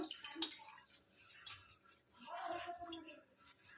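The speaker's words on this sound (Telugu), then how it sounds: "మీరు ఇలా క్లాత్ డైరెక్ట్గా ట్యాప్ కింద పెట్టైనా దీన్ని వాష్ చేసుకోవచ్చు" Cold tap water runs and splashes over a cloth held under the faucet while making paneer at home, a soft, uneven gurgling that rises and falls at low volume.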